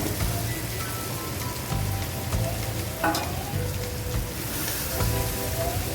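Duck eggs frying with potatoes and spices in a home kitchen pan, a steady close sizzle and crackle running throughout with a few brief scraping stirs.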